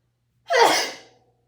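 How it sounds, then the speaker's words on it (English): One abrupt, breathy sneeze bursts out close by and trails off quickly into silence. "I'm going to sneeze."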